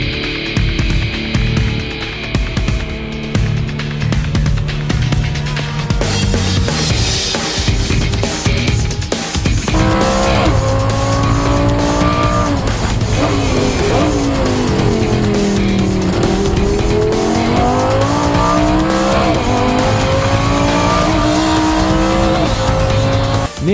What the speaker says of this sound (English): Salikov at the wheel of a Porsche 997, the first part of the race is near the top 10, and the challenge is with the M3 from Pro Motorsport